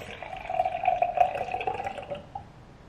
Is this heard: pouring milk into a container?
yes